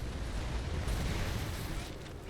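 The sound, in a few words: mortar fire from a video game (Gears of War)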